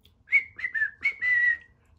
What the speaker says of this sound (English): Then we would whistle